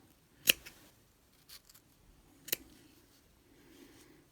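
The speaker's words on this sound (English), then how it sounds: "stick my scissors in those loops, and I'm just going to cut." Scissors snipping through yarn loops while making a small pom pom, two sharp, close cuts about two seconds apart, with a few softer handling rustles in between in a quiet room.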